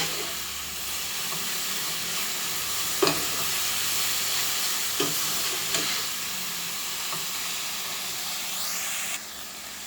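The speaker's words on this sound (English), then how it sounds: "I'll let these vegetables cook properly." Vegetables cooking in a pan, a steady sizzle and hiss throughout with a few soft stirring clinks and scrapes, close and moderately quiet.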